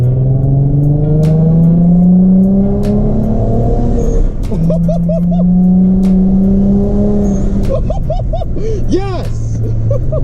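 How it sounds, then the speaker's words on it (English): Turbocharged, untuned Nissan G35 with a custom rear-mounted turbo, revved in a few loud, close bursts whose pitch climbs and falls over a steady idle, with a sharper flurry of rising revs near the end. "No, I can't rev it too hard."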